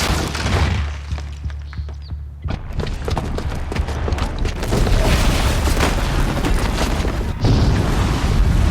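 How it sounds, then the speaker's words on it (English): A bomb detonates in Horizon Zero Dawn, a loud deep blast followed by sustained rumbling and crashing debris that rolls on for several seconds, with further heavy impacts near the end. "the booby trap on the bomb downstairs is gonna get set off"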